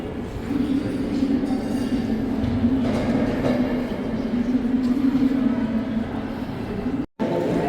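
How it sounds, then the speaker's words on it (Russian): Train at a railway station: a steady low rumble of rail cars with a faint clickety-clack, continuous and fairly close, ending in a brief dropout. "Так, поезд"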